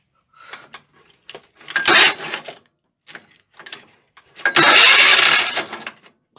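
An old car engine cranks in short bursts at a car show, the starter grinding in two louder attempts separated by quieter mechanical clicks, without settling into a steady idle.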